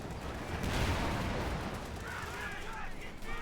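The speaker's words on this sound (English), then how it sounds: "Calliope is on the way to fire again." Rocket artillery from a Calliope launcher fires in the World War II strategy game Company of Heroes 2: a dense roaring barrage of rapid blasts and rumbling impacts, loud and sustained, rolling off into lighter crackling explosions.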